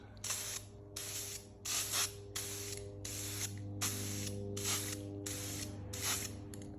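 Spray paint can applying a light coat over a stencil on an intercooler, about nine short hissing bursts in a steady rhythm, close and clear over a constant low hum.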